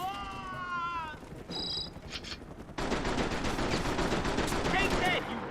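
Gunfire in the video game Mercenaries 2, rapid automatic bursts that start loud and keep going as a dense fusillade, mixed with game voices and chopper noise.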